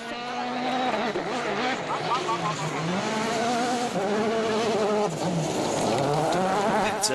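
Solberg's rally car powers away on a gravel stage at the 2011 Acropolis Rally, its engine rising and falling in pitch through gear changes, loud and close under continuous commentary.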